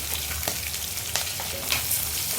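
Onions with green chilies frying in hot oil in a pan, a loud, continuous close-up sizzle with occasional crackling pops and stirring, with no talk.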